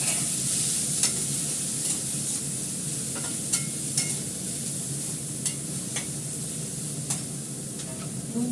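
Beans, carrot and green chili fry in a pan with a continuous close sizzle, while a utensil stirs them with scattered scraping clicks. No one speaks.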